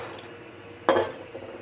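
A lid is set onto a cooking pot of simmering chicken curry with water and potatoes, giving a single brief metallic clank close by over a quiet kitchen background.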